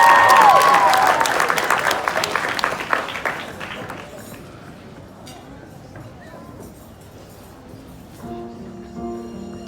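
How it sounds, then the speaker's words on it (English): An evening concert audience applauds a performer, the dense clapping loudest at first and fading over several seconds, with a few people talking and a piano note at the end. "Let's give her a round of applause"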